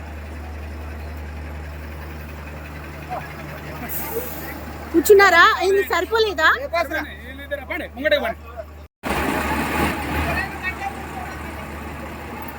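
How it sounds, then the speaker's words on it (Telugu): A pilgrim bus at Prayagraj idles with a low, steady hum while several people chat nearby. After a brief dropout the engine noise returns louder and rougher. "భక్తులను తీసుకుపోయే బస్సు."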